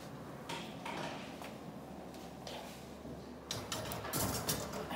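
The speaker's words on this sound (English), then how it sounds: "We're going to switch off the stove, pop the lid on, and then put it back into the oven." A lid is set on a pot of meatballs in tomato sauce and the pot is slid into an oven, giving a few light metallic clinks and scrapes followed by louder clattering knocks near the end.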